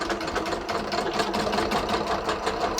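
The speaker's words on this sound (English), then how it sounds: "I'm going to just stitch my dart" A sewing machine stitches a curved bust dart in a steady, fast mechanical rhythm of needle strokes, close and continuous throughout.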